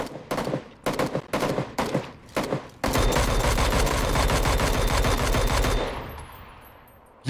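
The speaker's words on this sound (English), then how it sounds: "We were all shooting at different people." Gunfire in the PUBG video game: several short bursts of shots in quick succession, then a sustained loud volley of rapid automatic fire lasting about three seconds before tapering off.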